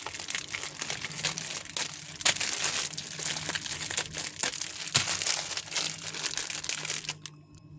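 Masala powder packets being torn open and handled, a steady crinkling and rustling of plastic wrappers up close with a few sharper rips, continuing for several seconds before stopping abruptly.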